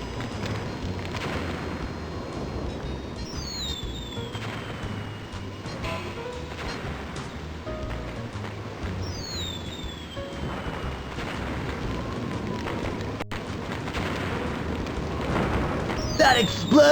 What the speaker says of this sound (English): That explosion has ripped them all apart.